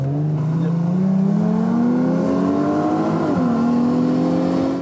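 A Porsche Boxster on an airfield track approaches and accelerates, its engine note climbing steadily and loudly before a brief gear change, then continuing to rise close by.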